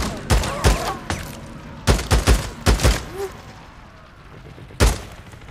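Sniper and other gunfire in Days Gone, about nine sharp, punchy shots in uneven clusters with a brief lull before a final crack, over low background noise.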